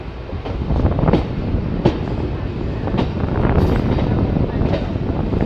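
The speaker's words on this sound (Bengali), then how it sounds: "খুব সুন্দর একটা বিকেলে ট্রেন রামপুরহাট স্টেশন থেকে ছাড়লো।" A 63026 Rampurhat–Azimganj passenger train pulls out of Rampurhat station on a rainy-season afternoon, heard from on board. It gives a loud, steady rumble with periodic clanks and clicks of wheels over rail joints, and wind buffets the microphone.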